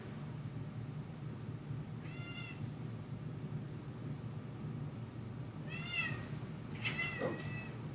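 A cat meows indoors, one short meow followed a few seconds later by two more, moderately close over a low steady background hum.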